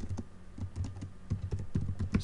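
Rapid typing on a computer keyboard, a steady run of close, clicky keystrokes with no voice over it.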